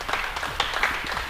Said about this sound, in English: big round of applause to Dean Prescott,